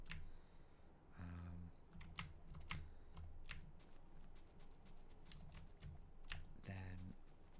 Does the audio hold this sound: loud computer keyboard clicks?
yes